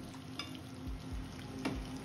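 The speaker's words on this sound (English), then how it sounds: "we're just gonna basically do a light stir fry" Mushrooms stir-frying in a pan for a Sichuan-style dish, a soft steady sizzle with light clinks and scrapes of stirring, close and fairly quiet with no voices.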